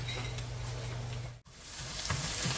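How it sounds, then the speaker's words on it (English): Eggs are chopped and scrambled in a sausage skillet with potatoes, peppers and onions, giving a steady loud sizzle with light scraping and clinks of a utensil against the pan. "Alright, so I am just chopping up these eggs."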